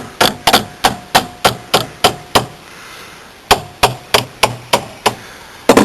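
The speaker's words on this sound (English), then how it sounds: "I'm going to use the hammer" Hammer striking a stiff caravan door hinge, a quick series of sharp metallic knocks, a brief pause, then another even run of blows, close and loud.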